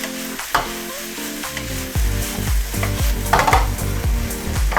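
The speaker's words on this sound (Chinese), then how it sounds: "菜叶下，牛肉下，开始翻炒它" Beef and vegetable leaves stir-fried in a wok over high heat, a loud, continuous sizzle with repeated scraping tosses and clanks, close and without voices.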